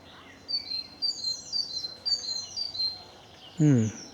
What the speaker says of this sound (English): Interesting bird song behind me.